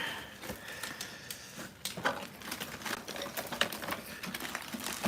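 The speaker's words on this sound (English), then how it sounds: "Gonna need a lot of zip ties here." Zip ties are ratcheted tight while rebuilding a pixel sphere, producing quick, close, irregular bursts of clicking and zipping, some sharp and spaced, others in rapid runs, with no talk.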